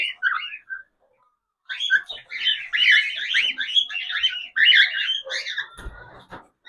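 Pet birds kept indoors during cold weather chirp and whistle close by in bright, rapid bursts, with a short silent gap early on and a brief thump near the end.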